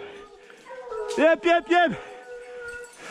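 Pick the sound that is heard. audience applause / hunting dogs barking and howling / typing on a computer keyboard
hunting dogs barking and howling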